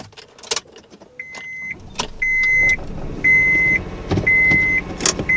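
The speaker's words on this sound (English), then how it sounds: "Let's test drive this thing." A 2000 Honda Insight barn-find car gets ready for a test drive, with short electronic beeps, a power window motor whirring several times, door and key clatter, and a faint engine hum underneath.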